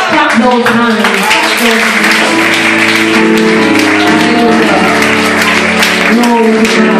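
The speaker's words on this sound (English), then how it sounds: "Clap those hands." Church congregation clapping hands in steady rhythm during praise singing, loud and continuous with music and voices throughout.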